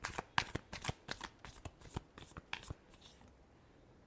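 Tarot cards shuffled by hand in a burst of crisp, rapid riffling clicks that slow and thin out toward the end, close and clear with no talking.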